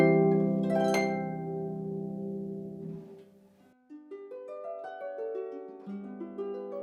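A 47-string concert harp spanning 6.5 octaves, from a low C to a high G, rings out with a full low chord, then a rising run of clear plucked notes climbing upward, close and alone.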